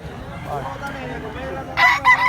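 At a rural Philippine gamecock sale, people talk softly at first, then a rooster lets out a sharp, loud crow near the end, broken into two bursts.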